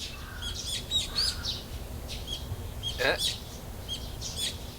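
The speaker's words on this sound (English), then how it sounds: "The chirping of birds serves as my alarm clock." Morning birdsong from the video game Higurashi no Naku Koro ni: scattered bright chirps and tweets, with one louder call midway, over a low steady background hum.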